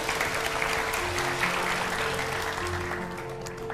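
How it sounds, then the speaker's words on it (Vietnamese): Studio audience at a television dating show breaking into steady, dense applause, loud and continuous throughout, with a low musical tone running underneath. "mọi người vỗ tay đi nào"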